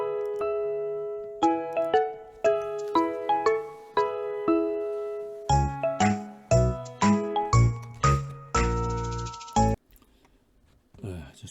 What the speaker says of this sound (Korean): 지금 중간에 전화가 왔어요